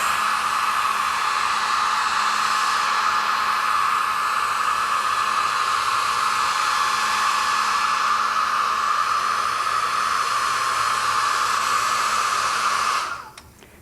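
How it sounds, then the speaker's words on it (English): A hair dryer on a low setting blows with a steady, even whoosh and hum for over ten seconds before switching off abruptly. "I like to dry the mat a little bit with a hair dryer"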